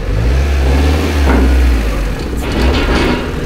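A Fiat Panda 100HP revs hard on a dynamometer, loud and close, the engine pitch climbing then dropping back with a second surge near the end.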